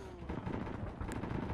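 Arma 3 gunfire crackles in rapid, overlapping bursts around a convoy caught in a valley, dense and continuous rattling shots with a distant, echoing combat wash beneath.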